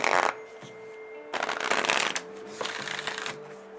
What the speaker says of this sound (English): Let's get some moon cards here, then we'll do some tarot cards.